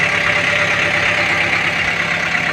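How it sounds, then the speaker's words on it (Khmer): A 2023 Kubota M6040 tractor idles with a steady, even engine drone that runs loud and unbroken throughout, with no talk over it. "ថ្ងៃនេះមានត្រាក់ទ័រមួយគ្រឿង ត្រាក់ទ័រ M60"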